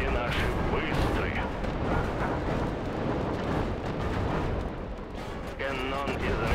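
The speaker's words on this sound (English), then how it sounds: "roar of the Soviet guns" Dense, booming Soviet artillery fire in a World War II real-time strategy game rolls continuously with heavy rumbling and overlapping blasts, under muffled voices.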